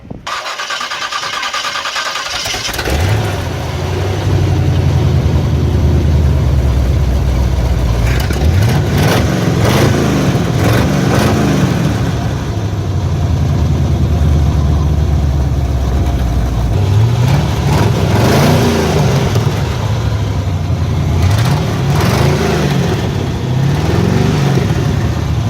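A V8-swapped Chevrolet S10 truck cold-starts after a short crank, then settles into a loud, rumbling idle with several revs rising and falling, close by.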